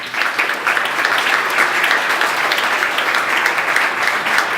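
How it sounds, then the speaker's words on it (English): Dense, steady audience applause at an indie game jam event, many hands clapping loudly and continuously with no pause. "I guess another round of applause for Perry Arion."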